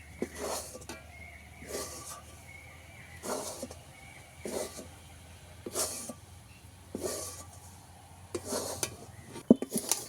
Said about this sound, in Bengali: এক বাটি ময়দা নিয়ে অল্প দিয়ে ভালো করে নাড়াবো একটু।